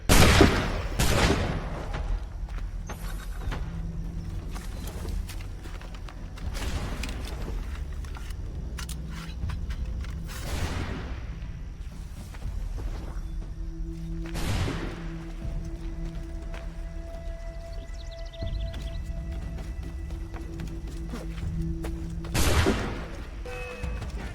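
Musket gunfire in Assassin's Creed 3, a series of sharp, loud separate shots spaced irregularly across a battle scene, with game voices and background tones between the blasts.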